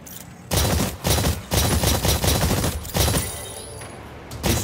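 Gunfire from the video game Exoprimal on a target-shooting training range: rapid, loud bursts of automatic fire in several volleys separated by brief pauses, with ringing tails between shots.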